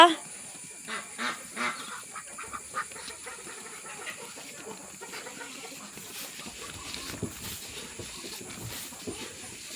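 Ducks quacking in short, scattered bursts, fairly close, over a faint steady hiss, with an occasional voice in the background.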